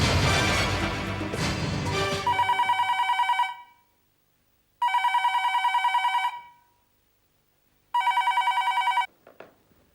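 A telephone rings in three electronic bursts separated by silent pauses, each bright, trilling ring lasting about a second and a half, following a brief loud noisy passage at the start.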